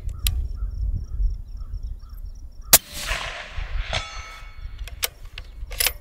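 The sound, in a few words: rifle shots ringing a steel target at 320 yards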